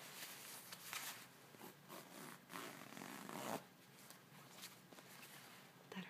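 A zipper on a jacket's side pocket is worked close up in a quiet setting, giving a series of soft scratchy zips and rubbing strokes, with one louder pull near the middle.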